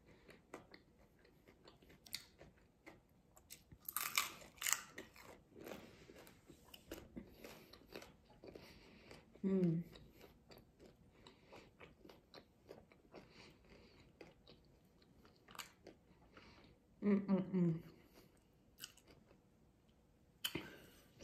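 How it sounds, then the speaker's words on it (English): Homemade crispy taco shells crunch in a few sharp bites and chewing bursts, close to the listener, scattered across a quiet stretch with small clicks and mouth noises between. "Y'all hear that crunch? These are homemade crispy shells."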